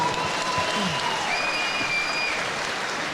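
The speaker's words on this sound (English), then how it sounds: "a massive round of applause for both fighters" A crowd at a Muay Thai event applauds both fighters, dense clapping and cheering spread across the arena at an even level, with a faint voice briefly above it.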